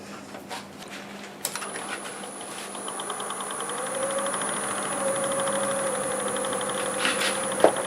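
Wood lathe spinning a chunk of firewood at about 750 RPM as a 5/8 bowl gouge starts cutting, a steady whirring drone with a rising cutting hiss and high whine, no talk.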